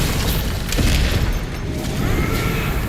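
A heavy boom and rumbling blast fill the moment as a grenade goes off in Resident Evil 9 Requiem, with dense debris noise and no gaps.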